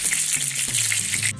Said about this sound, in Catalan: aquí tenim el bacallà que s'està fregint